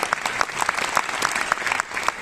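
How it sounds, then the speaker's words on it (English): Delegates at the ALDE Congress opening applaud together, a steady stream of individual claps forming lively, moderately close applause with a faint crowd murmur beneath. "this, it really deserves a round of applause"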